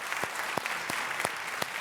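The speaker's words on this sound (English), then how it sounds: "I think we should give him a round of applause" A studio audience at a Dr. Oz talk show breaks into steady applause, a dense wash of clapping with a few sharper claps standing out, heard without speech.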